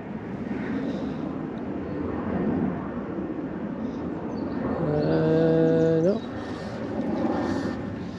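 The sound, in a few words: airplane flying over, near Prestwick Airport flight path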